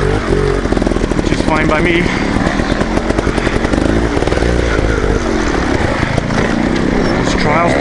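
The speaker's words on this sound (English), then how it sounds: "These trials bikes love the tougher stuff." A trials dirt bike engine revs and pops continuously up close on a rough hare scramble course, loud and steady throughout, with someone talking over it.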